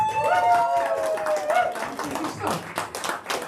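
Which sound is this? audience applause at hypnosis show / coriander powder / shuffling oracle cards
audience applause at hypnosis show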